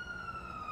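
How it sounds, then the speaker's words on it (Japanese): An ambulance siren in the video game GTA holds a steady, loud electronic tone that fills the moment on its own. "救急車来て"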